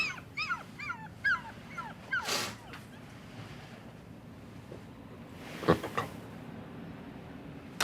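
A small dog whimpers in a quick series of high, wavering cries, then goes quieter over steady wind and outdoor rumble.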